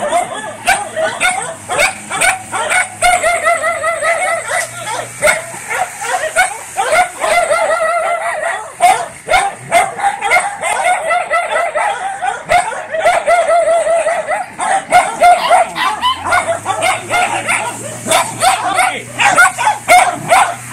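A white short-haired dog barks, yips and whimpers repeatedly at close range, sometimes in quick bursts, while people talk and chuckle nearby throughout.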